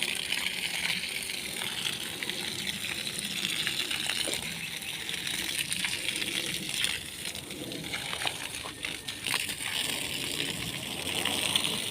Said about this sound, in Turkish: naneye de bol gitsin su